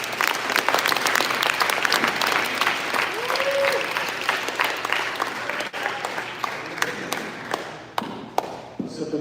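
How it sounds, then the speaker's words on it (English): Audience applause at the Transition Maine I Belong Summit, a dense burst of clapping that thins into scattered individual claps with faint voices underneath. "So let's give them a round of applause again."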